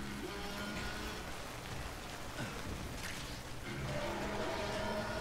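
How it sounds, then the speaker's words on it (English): Steady rain in the video game Death Stranding, a continuous broadband hiss of falling water that stays even and moderately loud throughout, with soft low rumbling underneath and no talking. "I do think you gotta go while it's raining."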